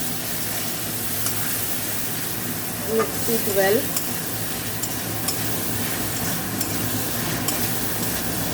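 Ginger, garlic and chili paste frying in oil for cream chicken, a constant sizzle with stirring scrapes and a brief clatter of a spoon partway through.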